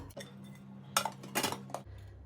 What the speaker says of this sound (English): I'll try to get each cake out of the tray and put it on a plate